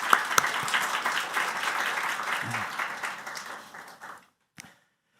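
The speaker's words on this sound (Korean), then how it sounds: "우리 현경 교수님께 다시 한번 큰 박수 부탁드립니다" A church congregation at a Sunday worship service applauds a visiting professor, steady clapping for about four seconds that fades and stops, followed by a single late clap.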